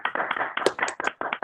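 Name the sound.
online meeting applause for Andy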